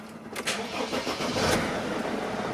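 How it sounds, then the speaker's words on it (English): A Mercedes Sprinter van's diesel engine cranks briefly and catches after glow plug and controller replacement, settling into a steady running rumble close by. "So we should be able to start the engine now."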